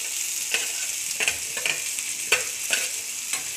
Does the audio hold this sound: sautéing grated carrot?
yes